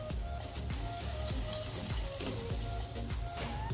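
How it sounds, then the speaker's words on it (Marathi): Salt is heated in a hot pan where asafoetida has just been fried, with a steady close sizzle and light scraping of stirring throughout. "मीठही गरम करून घेऊ."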